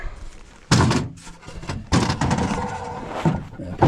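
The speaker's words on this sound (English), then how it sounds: "Knock off the dirt." A bike ramp is knocked against something to shake dirt off, two heavy hollow thunks followed by rattling clatter, close and fairly loud with no speech.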